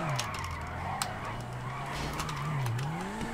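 A Futo car drives and skids in the video game GTA 5, a continuous tire squeal wavering in pitch over a steady engine drone at moderate level.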